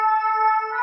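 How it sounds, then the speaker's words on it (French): An emergency siren passing outside, a steady tonal wail with stacked harmonics holding loud and even for just under a second. "Je suis désolée pour la sirène."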